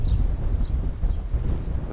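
Steady low rumbling morning wind buffeting the microphone in Baja California, Mexico, continuous and fairly loud throughout, with no clear voices.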